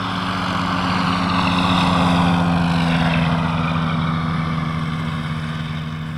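A propeller aircraft engine drones steadily and loudly throughout, its pitch wavering slightly as RPM is varied in flight to test drag and airspeed changes.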